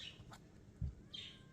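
A pet bird, not the conure, calls indoors with a couple of faint high chirps, one near the start and another near the end, over a low background hum.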